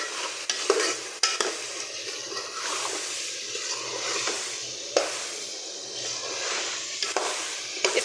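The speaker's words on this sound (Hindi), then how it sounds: "इसको 5 मिनट तक हमने इसी तरह भूनना है" Potato, peas and carrot curry with ginger garlic paste frying in a pan while being stirred, giving a steady sizzle with scraping strokes of the spoon, close up, with no talk.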